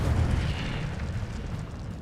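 Incendio fire spell cast in the video game Hogwarts Legacy, a loud whooshing burst of flame that roars and rumbles continuously with no pauses, dense and close.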